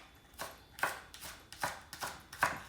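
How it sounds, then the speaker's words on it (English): Scallions are chopped on a countertop with a knife: five crisp, evenly spaced strikes, close and clear, with no voices. "I'm gonna chop up two, and I'm just gonna garnish my dish with this. So I'm just chopping it up right now"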